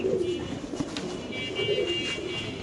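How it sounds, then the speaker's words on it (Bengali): Birmingham Roller pigeons kept for sale as breeding pairs coo steadily and close by, with soft overlapping calls running throughout and no one speaking. "কবুতর দেখেন।"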